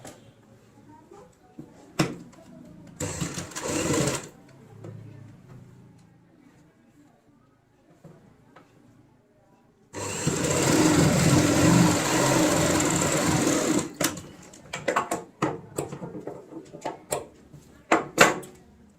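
A sewing machine runs steadily for about four seconds, stitching along the edge of a ladies' handbag, with a shorter burst earlier and scattered handling clicks around it.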